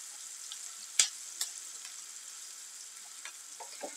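Onions with a teaspoon of salt sautéing in a pan, a faint, steady sizzle broken by a few soft stirring clicks and scrapes.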